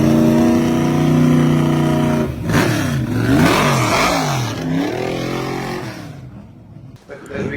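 A big-block Corvette C3 L88 race car engine revving loudly nearby, rising and falling in pitch through a sequence of sweeps as people talk over it.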